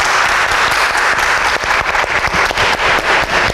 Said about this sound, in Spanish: Un aplauso, por favor, un aplauso.